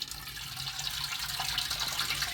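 Turmeric-tinted water poured out of a kitchen vessel, a steady close splashing and running-water wash that continues without a break and with no voices.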